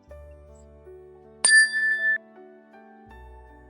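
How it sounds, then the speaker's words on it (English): A meditation chime is struck once, giving a bright, clear ring that hangs in the air for under a second before cutting off, heard alone in a quiet room over faint background tones. "We'll begin the meditation with the ring of the chime"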